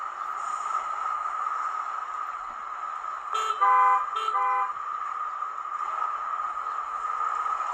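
Gaugemaster GM78 urban scenic sound module plays street traffic for a model railway: a steady traffic hum with a couple of short car horn toots in the middle, no talking.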